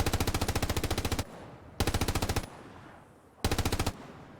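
Three loud bursts of rapid automatic fire from a machine gun in a video game, each a rattling string of shots lasting about a second, separated by short pauses.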